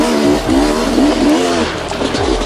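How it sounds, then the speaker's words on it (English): A 2019 Sherco 300 SE two-stroke dirt bike engine revs hard and steadily at close range, its buzzing note rising and falling through the throttle blips with no talk. "Sherco engines are with their direct on head power valve."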